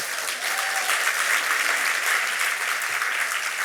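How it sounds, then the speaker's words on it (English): Steady audience applause rises at an awards reception of a mental health law organization, a continuous wash of many hands clapping with no talk over it. "That deserves some applause."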